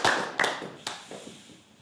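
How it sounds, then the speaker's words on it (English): A few scattered claps at a small singing session in the Seamus Ennis Arts Centre, sparse sharp hand claps close by that thin out and fade quickly. "Let's have a warm round of applause."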